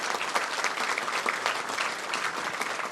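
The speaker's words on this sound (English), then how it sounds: "Give them a round of applause." A crowd at a gala awards night applauds a group of girls receiving honours, a continuous, even roar of many people clapping at steady loudness throughout, with no voices over it.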